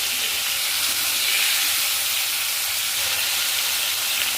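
Flour-coated loach fish fry in oil over high heat, giving a steady, loud, close hiss of sizzling with no talk.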